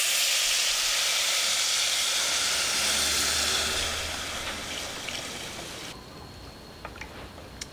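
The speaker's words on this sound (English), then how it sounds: "we're gonna add a little bit of vegetable broth and we're gonna let that come to a simmer" Vegetable broth with lentils and sweet potato simmering in a pot for a winter stew, a steady close hiss and soft bubbling that thins out partway through, leaving a quieter sizzle with a few small pops.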